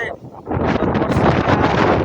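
Strong wind at 30 to 40 km/h in Balasore district, starting with a brief lull and then a sustained loud gusting roar buffeting the microphone, with a voice faintly mixed in.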